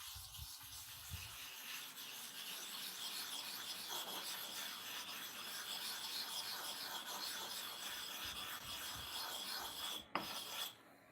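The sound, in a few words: sharpening stone rubbed against another stone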